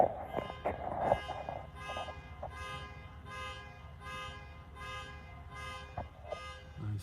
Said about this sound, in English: Someone's car went off.